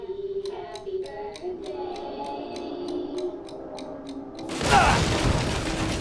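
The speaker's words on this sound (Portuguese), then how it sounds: "eu sabia da explosão já" Explosion in the video game Resident Evil 7, a sudden loud burst arriving near the end after several seconds of quiet rhythmic mechanical ticking, with the blast lingering as a rumbling roar.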